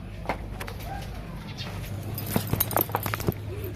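Pigeons coo softly in a loft, with a few low throaty calls and light fluttering or shuffling noises over a quiet background hum.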